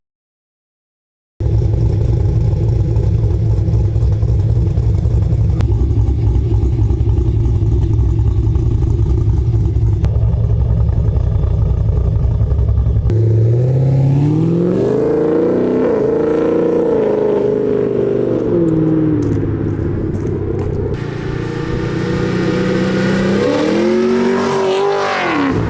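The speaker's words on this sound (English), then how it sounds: "so you guys can really hear how the speed engineering exhaust sounds on the 5th gen Camaro" Fifth-generation Camaro with a Speed Engineering exhaust driving through a neighborhood: a loud steady low drone at first, then sharp revs and accelerations with rising and falling pitch as it pulls away and passes.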